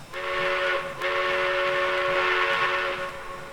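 A small steam locomotive whistle, the Strasburg Railroad 0-6-0 in the Trainz 2019 game, blows two loud, steady chime-like blasts, the first short and the second longer, with no voices.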